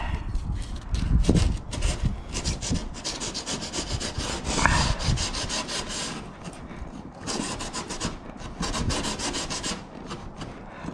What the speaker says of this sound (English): I kind of work the stick back and forth with sandpaper stuck to the edge